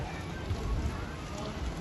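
Steady rain falls at a resort in Calamba, Laguna, a continuous dense wash of drops that stays even and moderately loud from start to finish, with no voices over it.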